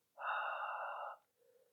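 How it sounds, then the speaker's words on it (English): A single long, breathy exhale through an open throat, like fogging up glass in Ujjayi yoga breathing, close and soft, followed by a faint short breath. "you imagine that you're fogging up a piece of glass with your breath like this"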